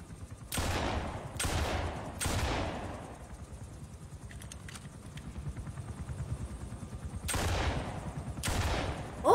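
Sniper shots from Quiet in Metal Gear Solid V, five sharp loud reports, three in quick succession and two more later, each with a long decaying tail over a low rumbling background.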